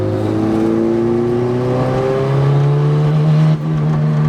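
Turbocharged Honda engine pulls hard through the gears from inside the car, a loud steady drone with rising whine, a quick dip at a shift, then climbing again.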